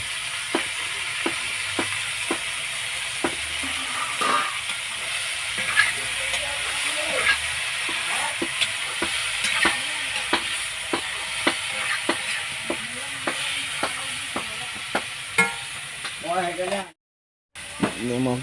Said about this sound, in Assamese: এয়া এতিয়া চব্জিখিনি দি দিছে কেৰাহীত